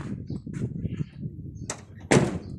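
A car door on a large pickup truck is opened, giving a sharp click followed by a louder clunk near the end, heard close up after some low background noise.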